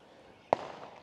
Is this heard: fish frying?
no